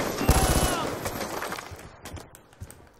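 Rapid gunfire bursts in the video game Black Ops 2 from a QBB-LSW light machine gun, a loud rattling string of shots at the start that fades into scattered softer game sounds and a few later pops.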